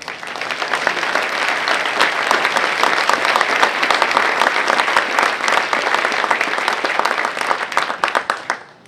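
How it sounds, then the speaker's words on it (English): Loud, dense clapping from an audience at a United Way event in Sheboygan rises to welcome two speakers, Jackie and Joel, holding steady for several seconds before tapering off at the close. "please have a round of applause for Jackie and Joel."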